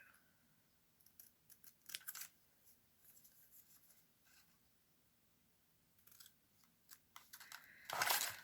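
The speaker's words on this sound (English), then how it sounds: "Let me cut that out." Scissors cut a paper number out of craft material, a quiet series of separate snips and paper rustles in irregular bursts, ending in one louder cluster of cutting and crinkling.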